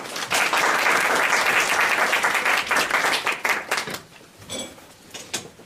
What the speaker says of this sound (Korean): 함께 같이 목사님을 박수로 환영하겠습니다